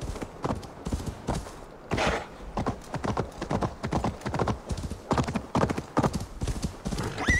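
Horse hooves clip-clop steadily in Assassin's Creed Valhalla, a brisk even rhythm of close, loud hoofbeats that runs throughout, with a short whinny near the end.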